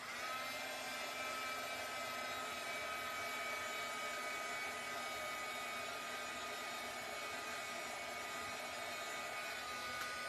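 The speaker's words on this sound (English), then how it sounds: "let me dry this ink a little bit" A heat tool blows hot air to dry ink on a stencil, a steady whirring drone that runs close and unbroken throughout with no talking.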